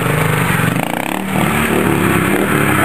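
A four-stroke trial motorcycle of about 80 kg revs steadily and loudly, its mid-pitched engine drone filling the whole stretch with a brief dip partway through.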